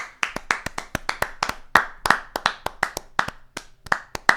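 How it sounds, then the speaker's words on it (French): Hands clapping alone, a brisk, close run of sharp claps in an uneven rhythm, roughly a dozen or more over a few seconds. "Moi, j'applaudis."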